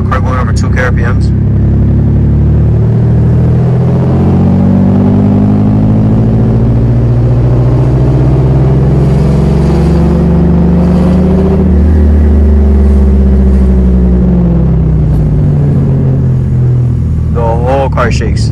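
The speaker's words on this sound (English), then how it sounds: "This is gonna be the car going over 2k RPMs." A Nissan 350Z engine with a blown turbo revs above 2000 RPM and rumbles loudly, its pitch climbing and falling in long sweeps, with a deep throbbing low end throughout.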